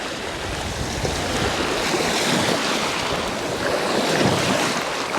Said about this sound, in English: It's a very, very big splash on the front.